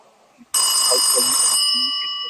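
Telephone ringing loudly and close: a sudden bright electronic ring starts after a brief quiet and holds steady, with faint background sounds underneath.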